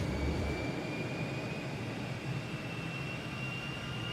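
Aircraft engine in Microsoft Flight Simulator 2024 holding a steady, broad roar with a thin high whine running throughout, fairly constant in loudness with no speech.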